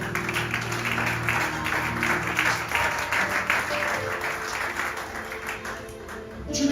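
A church congregation applauds and acclaims the Lord during a sermon, a steady swell of clapping with cheering voices mixed in, lasting throughout and rising again at the end.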